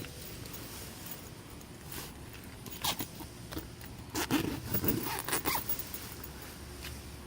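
Quiet handling noises, then several quick zipper pulls and scrapes in bursts on a Snugpak hammock cover, close and fairly soft, with no talking.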